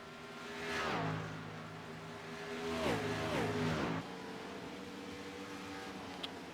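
A race car leaving pit road in an oval racing video game at Auto Club, its engine revving and pitching up through gears in two rising sweeps, then settling into a steady drone.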